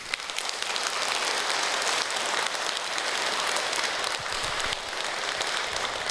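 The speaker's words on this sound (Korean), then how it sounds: "이시도로 농부, 우리 농부의 아버지를 위해서 박수." Church congregation applauding at a Mass honoring Saint Isidore, a steady wash of clapping from many hands at moderate distance, with no talk over it.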